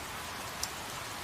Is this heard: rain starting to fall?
yes